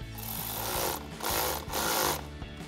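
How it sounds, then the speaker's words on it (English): A 7mm socket tightening hose clamps on a Ram 1500 cold air intake, heard as rapid ratcheting bursts repeated in short pulses close by. "we'll grab that 7mm socket to tighten these down"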